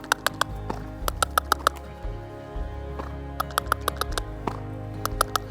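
Horse trotting on a lunge line during training, a crisp, regular two-beat of hooves close by, with short pauses between bursts of steps and a low, steady hum beneath.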